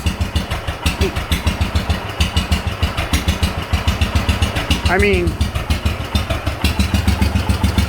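A Wheel Horse garden tractor engine running cold just after starting: a rough, loping idle with a steady, close, rapid throb of firing pulses and a slight surge partway through.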